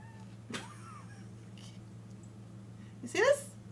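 A cat gives two short meows, one faint and one louder and rising, over a steady low hum in a quiet indoor room.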